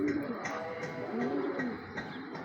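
Grey pigeons cooing nearby, soft rolling low coos repeating a few times, with someone talking over them and some outdoor background noise.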